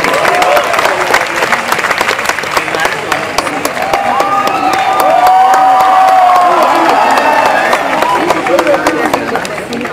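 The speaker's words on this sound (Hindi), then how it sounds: "जोरदार ताली हो जाएंगे" Loud, sustained audience applause and cheering at a live performance at the Kala Ghoda Arts Festival, dense clapping swelling and holding for about ten seconds with crowd noise and some voices mixed in.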